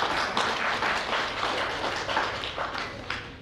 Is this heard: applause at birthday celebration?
yes